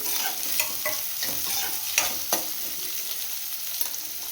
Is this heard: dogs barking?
no